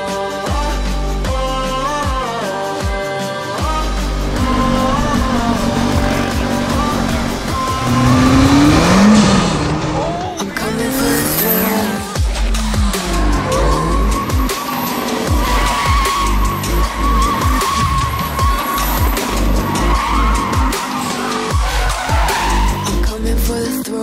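A Lotus 7 turbo kit car driving hard, its engine revving loudly and tires squealing and skidding in long, wavering screeches, all close and continuous throughout.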